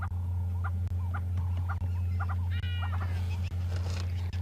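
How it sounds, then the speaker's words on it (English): A hornbill at a safari reserve giving repeated short tup calls in an irregular series, moderately near, over a constant low engine hum and other bird chatter, with no talk. "That hornbill going tup, tup, tup, tup, tup, tup, tup."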